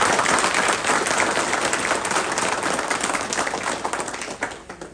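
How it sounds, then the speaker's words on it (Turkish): A large audience at a company's spring-season sales event claps loudly and densely in continuous applause that tapers off in the final second. "Bu kuvvetli alkış onlara yapalım."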